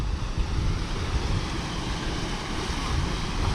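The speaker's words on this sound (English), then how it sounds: "Can you hear the water?" Water rushing at a campground spillway, a steady broadband roar that stays loud and even throughout, with some wind buffeting the microphone and no voices.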